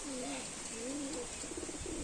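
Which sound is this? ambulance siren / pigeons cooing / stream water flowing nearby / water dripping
pigeons cooing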